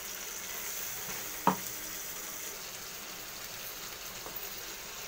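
Ginger, garlic and tomato paste frying in oil for a tilapia curry, a soft continuous sizzle with one sharp clink of a utensil.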